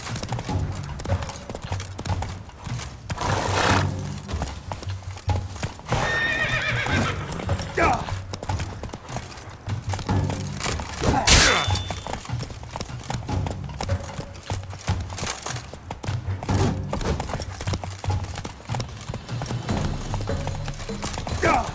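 Roach, Geralt's horse in The Witcher 3, gallops with rapid rhythmic hoofbeats and snorts, a whinny breaking in midway, while voices talk intermittently over the game's ambient score.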